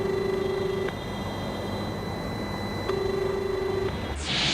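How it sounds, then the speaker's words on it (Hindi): A Covid helpline number rings on a telephone call, with two ringback tone bursts about two seconds apart over a faint line hiss and a short click at the end. "इस पर भी बेल जा रही है।"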